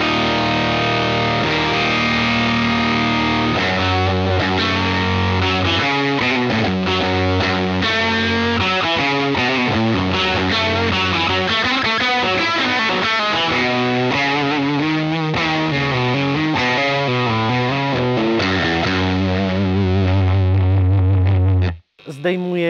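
Electric guitar played through a UAFX Enigmatic '82 overdrive special amp pedal set to the skyline tone stack, a sustained, mildly driven stream of chords and melodic lines lasting about twenty seconds before stopping abruptly.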